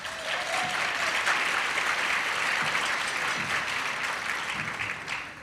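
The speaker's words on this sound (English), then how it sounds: "How about a round of applause for all of you?" A large audience at an annual luncheon in San Francisco claps in a sustained, even round of applause that fills the room, tapering slightly at the close.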